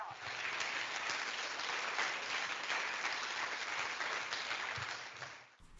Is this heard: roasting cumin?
no